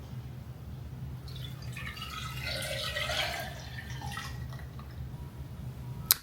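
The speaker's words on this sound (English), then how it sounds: "Now we're going in with that blue raspberry lemonade." Blue raspberry lemonade Kool-Aid is poured into a container for Kool-Aid pineapples, giving a steady close liquid pour and trickle that swells midway and ends with a sharp tap.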